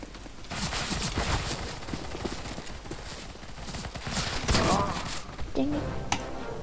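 Gunfire in a CS:GO match including a Nova shotgun, with scattered loud shots and thuds mixed with footsteps and other weapon fire, while a player talks over the action.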